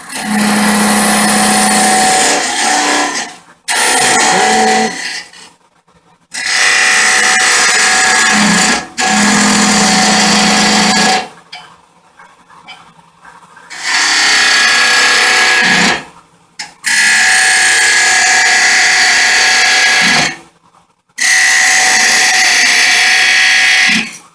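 A wood lathe spinning at about 2000 rpm hums loudly while a square scraper hollows end grain, cutting in long, harsh bursts separated by short pauses.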